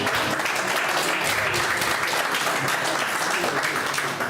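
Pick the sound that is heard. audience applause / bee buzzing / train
audience applause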